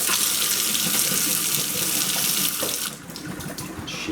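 Running water rinsing out an empty ostrich egg, a loud close splashing gush that carries on steadily, then drops to a thinner trickle near the end.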